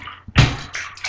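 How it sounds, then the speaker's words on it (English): Water is poured over a short-haired dog during a bath, a brief splashing gush after a quiet moment, close and fairly loud, with a couple of smaller trickling bursts following. "pour water on her back and her head like that."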